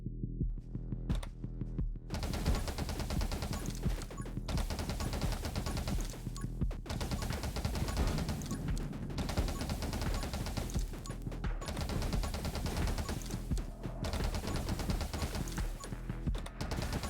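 Gunfire in the top-down survival shooter 20 Minutes Till Dawn: a dense, unbroken barrage of rapid shots layered over a loud, steady game soundtrack, continuing with brief dips for about seventeen seconds, with no talking.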